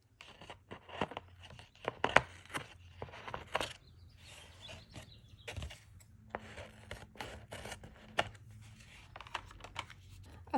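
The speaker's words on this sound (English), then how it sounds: "I'll cut off these excess bits here." PET tape trimmed with scissors, giving a series of close, quiet snips and crinkles with short pauses between them.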